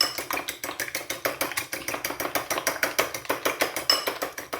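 Eggs whisked with salt for scrambled eggs, a fast, even run of rhythmic clicking and tapping strokes, close and steady throughout with no talking.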